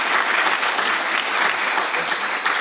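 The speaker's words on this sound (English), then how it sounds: "One more round of applause, please, for our legacy awardees." A round of applause from an awards-show audience honoring legacy awardees, loud, dense and sustained clapping filling the room from start to finish without a break.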